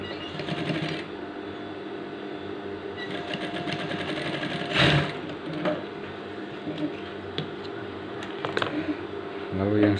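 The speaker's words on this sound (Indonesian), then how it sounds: "Kita jahit di sini." A sewing machine stitches the lining of a gamis garment collar, running in a steady, close mechanical whir with a short stop and a few clicks and knocks, while someone talks over it.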